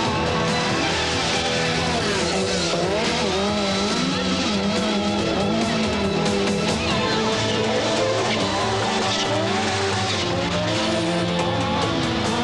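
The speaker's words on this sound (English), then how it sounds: "All-wheel drive also required a different driving technique: left foot braking to turn the car, as Walter Rural demonstrates here" An Audi all-wheel-drive rally car driven with left-foot braking, its engine roaring loudly and continuously with rising and falling revs and tire noise throughout.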